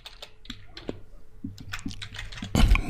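Quick, irregular clicks of typing on a computer keyboard, close and fairly quiet, ending in a louder cluster of keystrokes.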